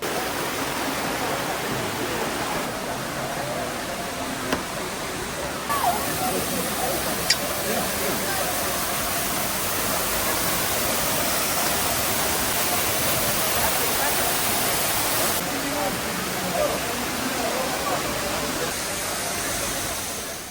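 A waterfall near Imlil, Morocco, close to Mount Toubkal, pours in a continuous broadband rush of falling water, steady and fairly loud throughout, with faint voices in the background.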